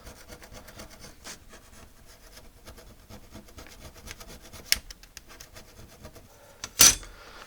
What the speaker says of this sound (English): So I'm just going to use my file and just get rid of the rusted parts.